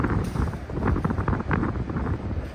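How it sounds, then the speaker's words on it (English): Wind gusting on a storm-battered beach, a steady loud rushing buffet against the microphone with rumbling surges, close and continuous. "the wind's picking up"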